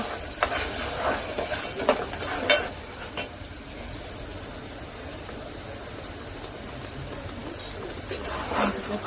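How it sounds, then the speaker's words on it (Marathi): Onion masala with ginger-garlic paste, turmeric and Kolhapuri red chili powder frying in oil for chicken rassa, a steady close sizzle with occasional stirring scrapes throughout. "आता याला तेल सुटेपर्यंत शिजवून घेऊ."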